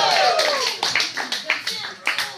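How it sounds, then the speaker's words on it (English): A live audience breaks into clapping and cheering, with a brief burst of rhythmic claps and voices rising over the crowd noise, fairly close and loud. "can we cheer for consent here?"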